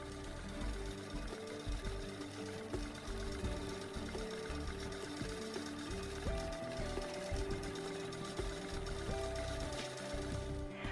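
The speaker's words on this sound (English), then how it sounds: "let the machine stitch a plumb line across the quilt" A Handi Quilter quilting machine stitches a line across a quilt with a steady, continuous mechanical whir and rapid needle chatter, close and alone with no talk.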